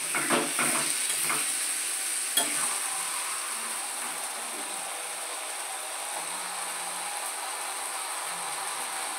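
Ash gourd curry being stirred in a pan as it dries and releases oil: a soft, even sizzle with a few scraping spoon strokes early on, then a quieter steady hiss.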